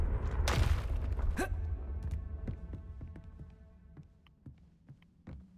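A Confringo blasting curse explodes in Hogwarts Legacy with a deep booming burst and a sharp whoosh, then fades into a low rumble. Scattered small impacts and ticks follow, and no one speaks.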